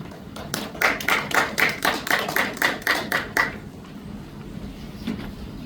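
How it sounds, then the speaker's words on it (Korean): About a dozen evenly spaced claps ring out sharply at a general assembly meeting, a small slow rhythmic applause welcoming a guest speaker, then fading into quiet room noise. "박수로 한해 주세요"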